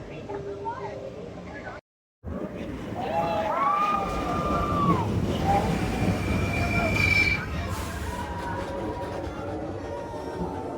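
Expedition Everest roller coaster train at Animal Kingdom, a roaring rush of cars on track with shrill wheel squeals and rising tones, crowd ambience and nearby voices around it, after a short silent gap.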